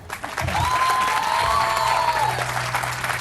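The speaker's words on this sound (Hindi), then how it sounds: "तालियां बजाओ।" Studio audience applause on a Pakistani morning TV show, a dense burst of clapping lasting a few seconds, loud and close, with some cheering mixed in.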